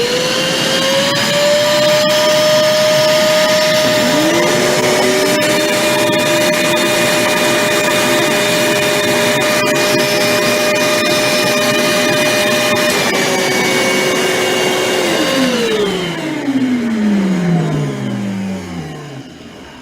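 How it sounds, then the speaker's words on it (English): Armor All AA255W 2.5-gallon wet/dry utility vacuums run loud and steady in a suction test, their motors whining at a constant pitch before one powers down with a falling whine as the sound fades. "how much do these vacuum cleaners suck? Now, both of these vacuum cleaners suck. But let's find out which one sucks more."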